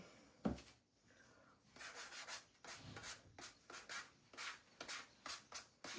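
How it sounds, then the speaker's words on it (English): A wooden egg is sanded by hand in short rhythmic rubbing strokes, close and faint, with a soft knock near the start and no talking. "oh wait, I need to sand it a little bit."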